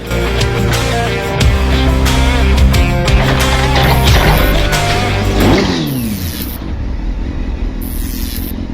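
Superbike engine running nearby, a loud steady idle with revs swelling and falling, then easing into a lower rumble toward the end.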